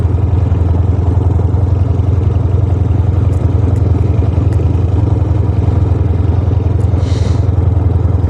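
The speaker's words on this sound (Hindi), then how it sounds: "मैं बाइक बिल्कुल स्लो चला रहा हूँ क्योंकि हर 1-2 सेकंड 5 सेकंड के बाद एक मोड़ आता है" Motorcycle ridden slowly downhill along a winding mountain track, a steady low engine rumble with light clatter and wind buffeting, close and continuous.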